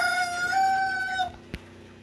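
A rooster crows near a dirt-floor chicken coop under construction, one long loud drawn-out call that fades away, followed by a single short thud.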